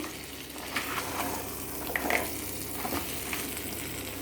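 Crab masala being stirred in a clay pot with plenty of oil, using three-quarters of a kilo of crabs for an Andhra crab curry: a steady close sizzle and frying crackle with soft scraping stir strokes throughout.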